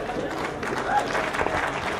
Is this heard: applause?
yes